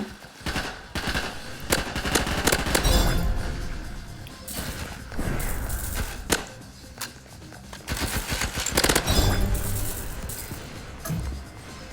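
Rapid automatic weapon fire from the video game Hypershot, sustained bursts of close, loud gunshots with clinks and crashes mixed in over continuous game sound.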